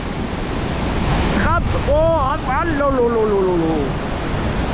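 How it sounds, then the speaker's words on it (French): A waterfall in the Jura, swollen by heavy rain, crashes with a constant roar as gusting wind buffets the microphone, and someone speaks over the noise. "la brume, l'eau qui part de la fin de la cascade, c'est la chute"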